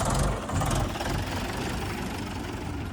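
John Deere and Mahindra tractor engines idle nearby in a steady, low, rumbling drone, loud and continuous with no talk over it.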